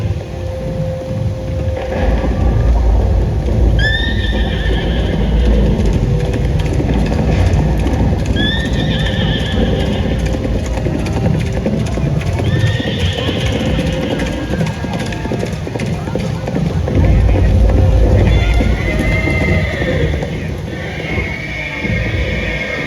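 Horse neighs and clip-clopping hooves from a light and sound show at Bagh-e-Bahu in Jammu, staged with thunder and rain effects. Several loud whinnies repeat over steady hoofbeats, with a rumbling storm bed underneath throughout.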